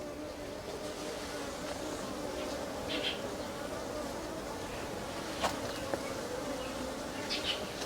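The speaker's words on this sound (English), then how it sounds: "You see all the bees?" Steady, faint buzzing of many bees swarming around a hive on Caesar Island, China, a continuous droning hum with a few louder passes close by.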